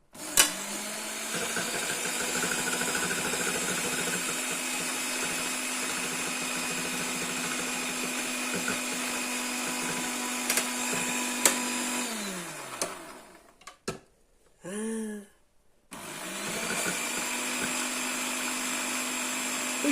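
An electric mixer whips 15% cream with a steady high whine. Near the end the motor stops, a short burst sounds, and the mixer then starts again.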